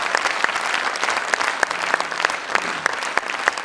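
An audience applauds at a Hindi poetry recital on Independence Day, a dense, loud and steady clapping with a few sharper claps standing out, going on without a break and with no voice over it.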